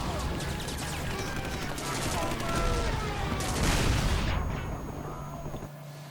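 Battle sounds from a Heroes & Generals WWII shooter: dense, continuous gunfire and rumbling explosions, a heavier boom swelling near the middle, with faint voices underneath throughout.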